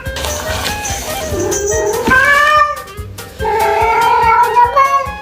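A cat meows repeatedly indoors, close and loud, in several drawn-out rising and falling calls with short pauses between them.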